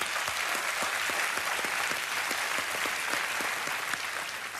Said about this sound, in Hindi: और तालियां।